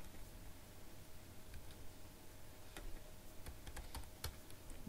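Computer keyboard typing while code is written, heard as a quick run of light, close key clicks in small clusters over a quiet steady room hiss, with no talking.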